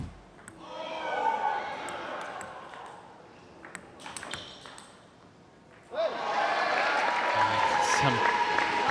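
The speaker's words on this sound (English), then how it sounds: "plenty of noise from the crowd in the middle of that rally there." Spectators at a Major League Table Tennis match between Carolina and Florida cheer and applaud, swelling suddenly to a loud, dense burst near the end. A sharp ball ping and commentary come earlier in the clip.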